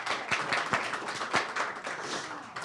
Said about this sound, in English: Let's have an applause for the community of the Cultural Arts